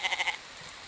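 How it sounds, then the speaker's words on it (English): Sheep bleating in the video game The Infected, four short, evenly spaced bleats in quick succession, fairly close and clear, then quiet background. "Where is that bleating coming from?"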